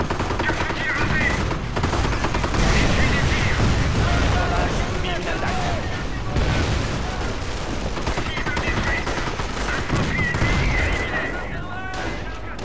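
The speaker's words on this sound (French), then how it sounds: "C'est un DCA équipé de 4 canons de 20 mm." Dense, rapid fire from a four-barrel 20 mm anti-aircraft gun in Company of Heroes rattles continuously amid booms and battle noise, loud and close, with voices briefly audible in the mix.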